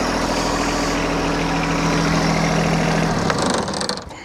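A tractor engine idles loudly nearby on a Texas farm with a steady low rumble, then cuts out near the end as it is shut off and the sound dies away.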